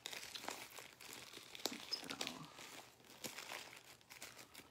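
A plastic bag is handled up close, giving a soft, continuous crinkling and rustling with scattered sharper crackles, fairly quiet and with no talk over it.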